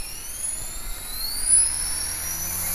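An HK-450 RC helicopter with an Assan GA-250 gyro spools up on idle up, a steady, fairly faint high-pitched rotor and motor whine with a rising tone that holds throughout.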